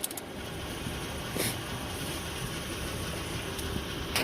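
A Honda Accord with a 3.0 V6 engine idles quietly, giving a steady, even low hum with no change in rhythm and no talking.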